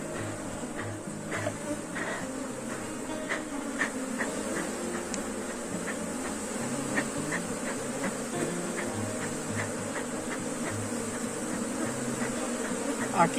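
Honeybee swarm at an apiary, a dense steady buzzing drone of many bees with individual bees zipping close by, and faint quiet voice in the background.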